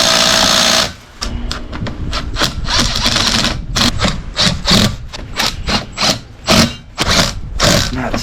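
Ratchet clicking while tightening and torquing a bolt on a Walker T25i mower, a long steady burst followed by repeated sharp ratcheting strokes in short uneven bursts, close and loud.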